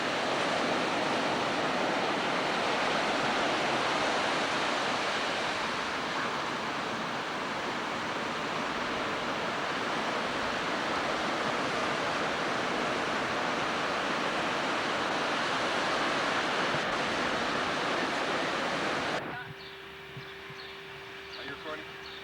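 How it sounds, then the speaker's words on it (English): Pacific Ocean waves crash against a seawall in San Diego, making a loud, continuous roar of surf with wind rush that runs for nearly twenty seconds before it cuts to quieter ambience. "You're looking at the Pacific Ocean and the waves crashing on the seawall"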